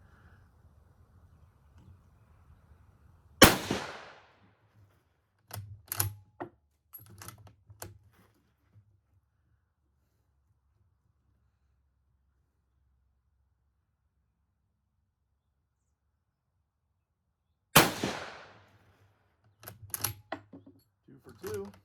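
Two loud, sharp rifle shots from an 1893 Turkish Mauser at an outdoor range, each a sudden broadband crack with a short decaying tail, spaced about fourteen seconds apart, followed by brief clattering bolt and handling noises.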